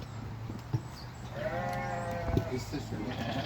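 A flock of qaradolaq sheep bleats in a farm setting, several drawn-out calls rising over a steady low rumble, with a few brief knocks and bleats overlapping near the middle.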